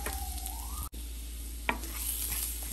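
Finely chopped garlic hitting hot cooking oil in a pan for creamy white-sauce pasta, giving a steady close sizzle with a light clatter of stirring partway through.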